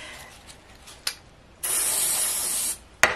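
Aerosol spray glue hisses from a can in one steady burst of about a second, preceded and followed by short clicks of the nozzle, during glitter craft work for handmade gifts.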